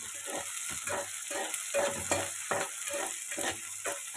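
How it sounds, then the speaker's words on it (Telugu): Onions, green chillies and curry leaves sizzle in hot oil as a tempering for a bottle gourd and milk curry, a steady bright frying hiss broken by rhythmic stirring scrapes, close and without speech. "ఉల్లిపాయలు, పచ్చిమిరపకాయలు, కరివేపాకు, తాలింపు కింద వేసేసాను నూనెలో."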